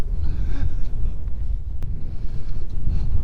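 Strong wind buffeting the microphone outdoors on a very windy morning at a model EDF jet flying field, a loud, rumbling low roar that swells and dips throughout with no clear speech.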